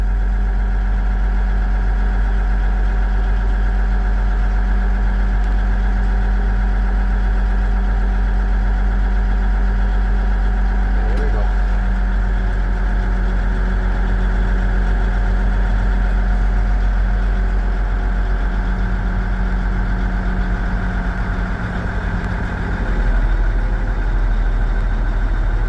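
A truck engine idles steadily, a loud continuous low drone with a slight knocking texture and no talking over it.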